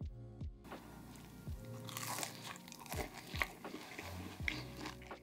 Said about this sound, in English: Now that is what I call a satisfying bite of food.